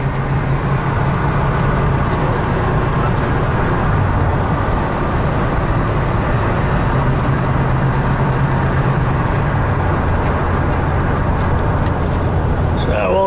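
A 1973 Dodge Charger SE with its original 440 cubic-inch V8 and three-speed gearbox, driving with a steady engine drone and road noise throughout, while a person talks over it.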